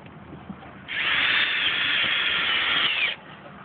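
Power drill driving screws through an offset closure on a standing seam metal roof, a single steady whine of about two seconds, close and loud, with no talking.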